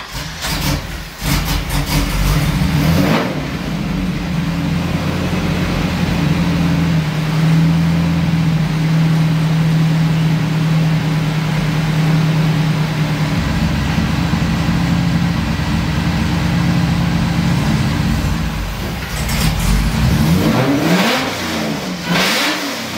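A supercharged engine with 180-degree headers fires up and revs hard, a loud, close, raspy roar held steady for long stretches, with sharp blips at the start and a falling rev as it settles near the end.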